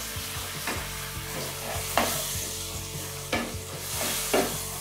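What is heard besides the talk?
gatte curry with stock cooking on full flame, stirred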